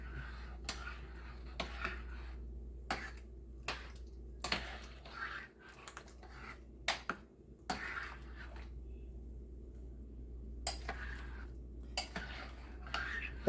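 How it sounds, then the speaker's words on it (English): A spoon stirs peach plum butter in a pot, making faint, repeated scraping clicks at irregular intervals over a low, steady hum. "I'll just stir this in."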